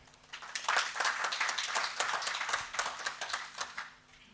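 Audience applause at a regional training seminar on animal welfare, a dense crowd of many hands clapping steadily for several seconds, fairly close and even in level with no speech over it.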